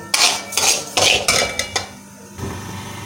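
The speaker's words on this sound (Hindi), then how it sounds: "दलिया जो है हमारा अच्छे से भुन रहा है।" Broken wheat (dalia) roasting in a pan over medium heat, with a spoon scraping and clinking against the metal in several loud, distinct strokes, then a quieter sizzle at the end.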